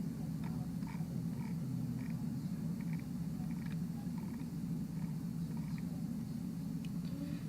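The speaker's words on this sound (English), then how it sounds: "Do you hear the frog calling on Puppy Hill Cam?" A frog calls outdoors near a live camera, faint repeated croaking pulses over a steady low rumbling hum that fills the whole stretch.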